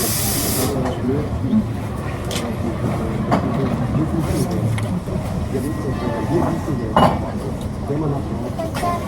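Steady rumbling hiss of a passenger train rolling along its rails, heard from on board, with occasional clanks and rattles from the carriage, continuous throughout.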